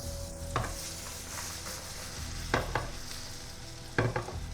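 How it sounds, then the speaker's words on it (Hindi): Chopped onions tip into a pan of hot fat with cloves and cardamom, frying with a continuous sizzle while a spoon scrapes and stirs in three distinct clattering strokes. "प्याज डाल देंगे"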